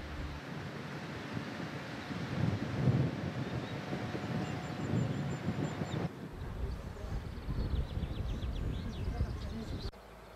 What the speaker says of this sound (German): Auf knapp 1000 Metern Höhe weht ein starker Wind.